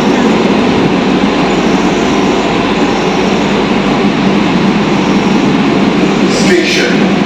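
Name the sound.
metro train at Satyajit Ray metro station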